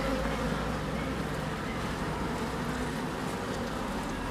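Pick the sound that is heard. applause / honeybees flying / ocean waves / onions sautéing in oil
honeybees flying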